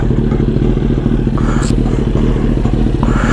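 A warmed-up 2022 Kawasaki Ninja ZX-10R sport bike runs close by, giving a loud, dense, rough engine rumble with faint mechanical clatter on top.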